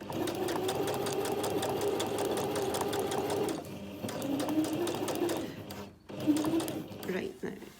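A sewing machine stitches a zip into a cushion cover with a close, fast, even whirr that pauses briefly and resumes in short runs, a voice talking over it throughout.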